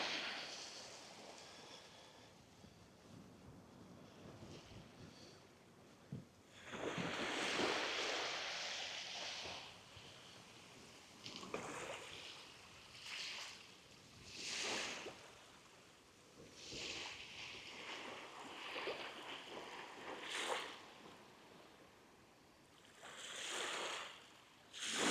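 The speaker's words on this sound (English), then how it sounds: "I can't tell you how much I love the sound of water lapping up on the shore" Water laps gently on the shore at Port Erin beach on the Isle of Man, with soft washes swelling and fading repeatedly over a low background of wind.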